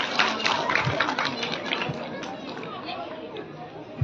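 An audience at a village Ramlila performance claps in a steady, moderately loud burst, with chatter and crowd murmur mixed through the applause.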